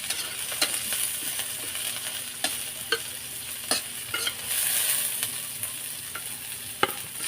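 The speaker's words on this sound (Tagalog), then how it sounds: "Pag brown na yung bawang, sinagyan na yung sibuyas." Garlic and onion sauté in oil in a pan for cabbage, producing a continuous close sizzle punctuated by repeated spatula scrapes and taps, with no speech.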